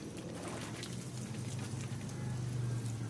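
Water poured over a compost layer of freshly chopped grass makes a steady, soft splashing patter like light rain that continues evenly at close range, with no talk.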